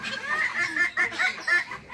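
Dwarf Cochin chickens at a zoo in Okhtyrka give short, repeated clucks at a moderate distance, several soft bursts about every quarter second with faint background noise.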